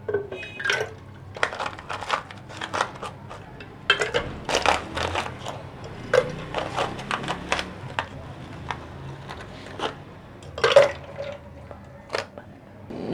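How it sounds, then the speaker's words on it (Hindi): Ice cubes drop into a jug of cold water, giving irregular bursts of clinking and knocking against the container, close and fairly loud, spread over several seconds. "ये आइस क्यूब्स।"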